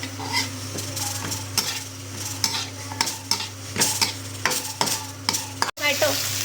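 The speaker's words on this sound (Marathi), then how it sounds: "थोडंसं फ्राय करून घ्यायचे टोमॅटो सुद्धा." Tomatoes soften in a hot pan while a spatula scrapes and clinks against the metal over a steady soft sizzle, in close repeated strokes with a low hum underneath and no talking.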